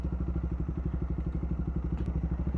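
A Bajaj Dominar 400 motorcycle runs steadily while ridden, its engine giving a low, even pulsing throb at close range with no voices.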